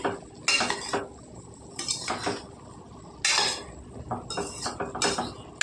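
Cauliflower and broad bean curry with chilli powder stirred in a pan, a spoon scraping and clinking against the metal in several bursts, close and fairly loud, with a faint sizzle between strokes.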